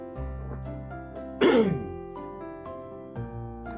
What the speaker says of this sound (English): I'm coughing, but I'm not sick or anything.